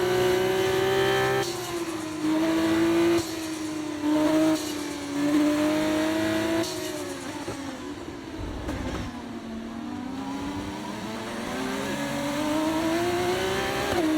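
Formula 1 car engine in the F1 24 video game on a warm-up lap, a loud harmonic whine that rises with each shift and drops again, revs held moderate, later easing into a steadier drone.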